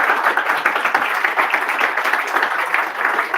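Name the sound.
audience applause for James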